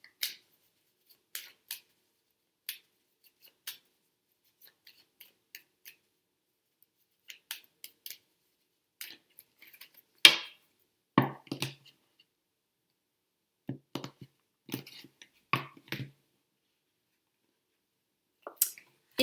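Tarot cards are drawn from a deck and laid down on a table, heard as scattered soft flicks, slides and taps at close range in an otherwise quiet room.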